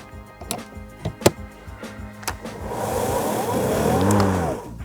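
A few sharp clicks and knocks, then the small electric motor of a Dnipro-M DLM-200BC cordless lawnmower whirs into life and runs with a quiet, steady hum.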